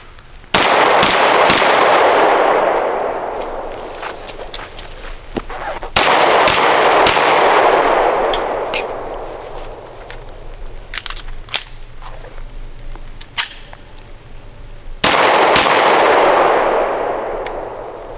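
Gunfire from a customized Girsan Hi-Power 9mm pistol, loud sharp reports at close range: a strings of shots, a brief gap for a mid-string magazine change, then more shots, each crack ringing with a little echo.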